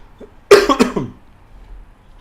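A single harsh cough bursting out loud and close, with a quick second hack right after, then quiet.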